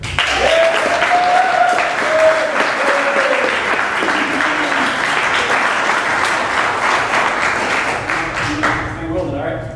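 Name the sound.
applause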